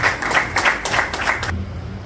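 Brief burst of audience applause at a program event, a few seconds of brisk, fairly close clapping from a modest group that stops abruptly, leaving faint room noise.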